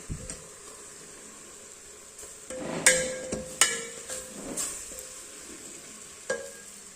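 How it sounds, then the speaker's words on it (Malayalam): Softened onions sauté in a pan with added ingredients, a low steady sizzle broken by several scraping stir strokes and sharp spatula clinks against the metal. "ഉള്ളിയൊക്കെ ഏകദേശം വാടി, അപ്പം ഞാനിതിലേക്ക് ഐറ്റംസ് ചേർക്കുകയാണ്. അതിനുശേഷം നന്നായി വഴറ്റിക്കൊടുക്കുക."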